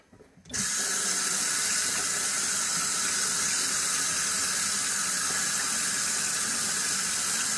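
Hot water gushes from a tap into a sink with a sudden start, then holds a loud, steady hiss and splash for several seconds, with no talking.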